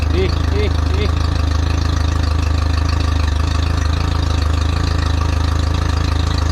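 A Mercury 60 hp four-stroke outboard boat motor idles steadily and loudly nearby, a constant low throbbing hum running without pause, with a few faint higher tones early on.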